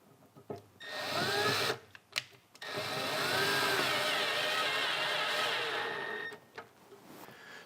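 A power drill whirs steadily as it drives a self-tapping screw into the metal housing of a MAG-200 dust collector, a loud sustained whine for several seconds with short bursts and stops before and after.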